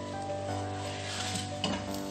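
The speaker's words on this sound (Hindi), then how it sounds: "सारे बटर को इसके अंदर डालना है सेवइयों के अंदर, और फिर इसको मैंने करना है रोस्ट।" Vermicelli roasting in butter in a pan gives a steady close sizzle with faint stirring scrapes and a brief louder clatter near the end; no one speaks.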